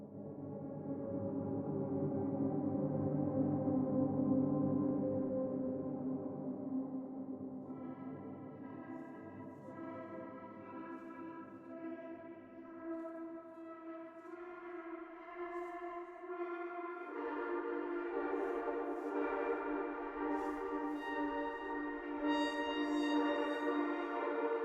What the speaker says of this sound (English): let's run through the Bellow Pads